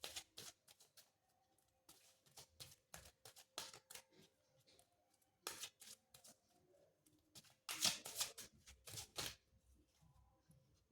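A deck of playing cards is shuffled in repeated quick riffling bursts, crisp and close, with brief pauses between runs and no talk.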